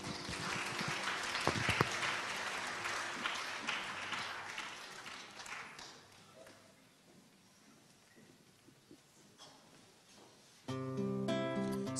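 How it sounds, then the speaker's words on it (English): An audience at a secondary school poetry night applauds in a dense wash of clapping that thins out and dies down over several seconds, before a louder, different sound abruptly starts near the end. "A big round of applause, please."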